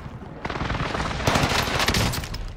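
MP40 submachine gun fire in the Call of Duty video game on Rebirth Island: a rapid burst of automatic shots that grows louder and denser partway through, loud and close, with no speech.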